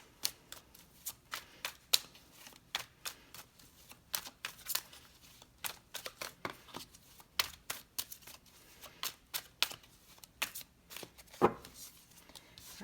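Tarot cards are shuffled close to the microphone in a long, irregular series of crisp, quiet riffles and slaps with short pauses between them.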